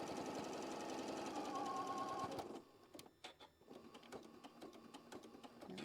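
A sewing machine runs steadily, stitching a scant quarter-inch seam on a flying geese quilt block, then stops abruptly, leaving quiet handling clicks and rustles.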